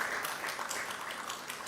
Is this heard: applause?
yes